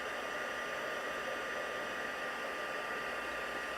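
Heat tool blowing hot air over a small handmade craft treat holder, a continuous even whooshing hiss that stays steady and fairly faint throughout, with no one speaking.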